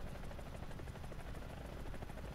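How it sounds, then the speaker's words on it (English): A G LYNX helicopter in War Thunder flies with a continuous rotor thrum and turbine roar, an even, steady drone at moderate level with no talk. "Fortunately, I'm a very fast helicopter."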